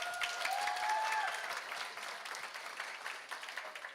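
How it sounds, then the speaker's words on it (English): A graduation audience at Dunrobin Prep claps in a steady round of applause that starts fairly full and slowly thins and softens, heard from a moderate distance with a brief higher voice near the start. "Give her a big round of applause"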